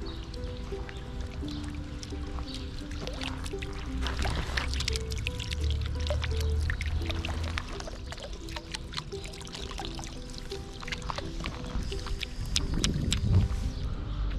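A small spring in Armenia runs in a continuous close trickle and splash, its babbling flow steady throughout with faint background hum and no speech.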